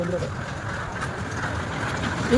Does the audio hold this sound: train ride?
yes